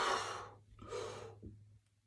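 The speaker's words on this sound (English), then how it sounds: "That's how you know you're breathing from quadrant 1." Deep breaths drawn in to prepare for loud clarinet playing, two long airy inhalations close to the mic followed by a short puff, over a faint low hum.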